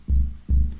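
Two deep, booming FM-synthesized kick drum hits from a Digitone 2 drum machine, about four tenths of a second apart, each with a punchy attack and a short humming low tail.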